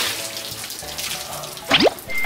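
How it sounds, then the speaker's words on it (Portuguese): A bucket of cold water is thrown during a game, landing as a short, sharp splash near the end after a stretch of quiet room noise. "Balde d'água."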